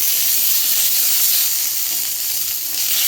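Water from ground spice paste hits a hot pan of oil with chilli, turmeric and tomato, setting off a loud, continuous hissing sizzle that stays strong throughout.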